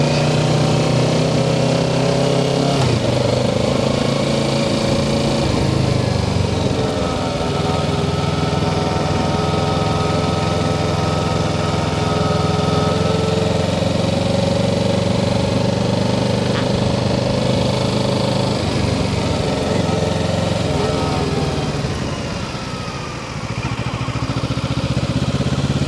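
Motorcycle engine running steadily at low speed as the rider turns and cruises, a continuous near rumble with a slight dip in level near the end.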